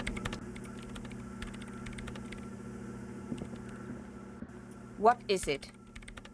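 Keys clatter on a computer keyboard in the video game Disco Elysium, light rapid typing over a low machine hum, with a voice speaking briefly near the end.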